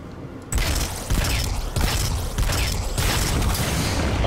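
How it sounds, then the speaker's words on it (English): Explosions and chaotic combat in the Destiny 2 video game on PC, a sudden loud blast followed by repeated heavy booming impacts and rumbling debris. "Like that, the explosion."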